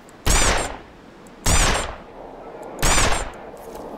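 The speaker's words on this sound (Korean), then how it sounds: "이런 거는 리볼버로 마무리." Three loud, close revolver shots fired at roughly one-and-a-half-second intervals in The Long Dark, each a sharp crack followed by a brief decaying tail.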